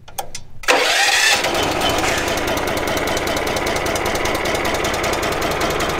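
A gas-powered Victory MDWC1500 wood chipper with a 13.5 HP engine and 4.5-inch capacity starts after a few sharp clicks, then settles into a loud, steady, close running roar with a fast rhythmic pulse.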